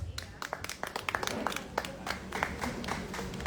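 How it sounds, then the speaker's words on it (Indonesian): Scattered applause from a small audience at a press conference introducing a film's cast, quick irregular claps close by, with a voice speaking over the clapping. "Tepuk tangan untuk Om Willem Bevers."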